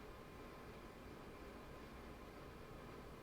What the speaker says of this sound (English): So if you hear in the background, there's my heaters on